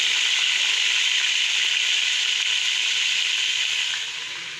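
Ginger and garlic fry in hot oil in a pan, giving a steady, loud, bright sizzle with no talking that eases off slightly near the end.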